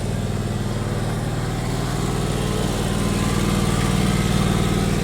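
A John Deere X485 lawn tractor engine runs steadily up close, a loud continuous mechanical drone that holds even for about five seconds with no talking.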